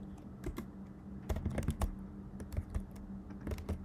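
Fingers type on a computer keyboard while someone codes a Scratch game, producing scattered, fairly quiet key clicks in short irregular bursts with no talking.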